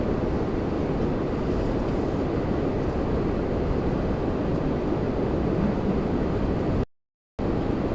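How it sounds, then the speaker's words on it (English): A regional jet departing Toronto Pearson airport, its engine roar steady and loud, a broad continuous rumble across the whole stretch, with a brief dropout near the end. "we're getting an RJ departure right now"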